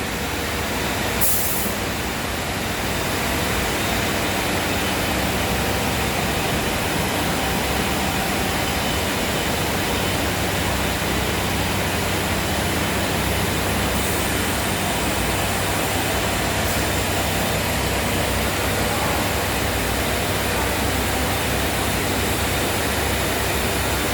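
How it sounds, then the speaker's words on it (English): An SCM M100 CNC router's electrospindle runs continuously, producing a loud, steady broadband whoosh and whir that holds constant throughout without voices. "So now the spindle is rotating."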